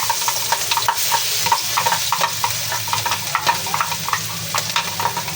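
Garlic sizzles steadily as it sautés in leftover frying oil in a pan, with frequent light scrapes and taps of a stirring utensil over the continuous close crackle.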